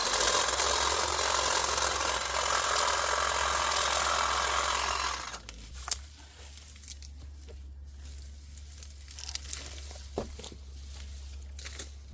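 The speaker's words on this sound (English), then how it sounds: "cut all of this previous year's growth right down to an inch or so from the ground" Clipping back last year's asparagus growth to about an inch above the ground in a garden bed makes a steady, fairly loud rustling cut for about five seconds, followed by quieter scattered snips and small rustles.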